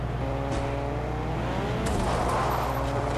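A car engine in a video game hums steadily at moderate volume, rising slightly toward the end as it speeds up, with no voices.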